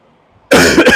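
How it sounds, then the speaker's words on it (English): A single loud, close cough bursts out of near silence, harsh and abrupt with a short second push at the end. "Sorry about the cough there."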